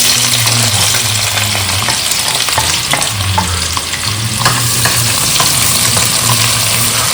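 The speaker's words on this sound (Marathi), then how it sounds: "तर आता आपण भाज्या फ्राय करून घेऊ आणि स्क्रॅम्बल्ड एग कसं तयार करून घेऊ तर आधी मी टाकते लसूण आलं आणि कांदा" Garlic, ginger and onion fry in a pan with a loud, steady sizzle, while a spoon scrapes and stirs through them in bursts; no one speaks.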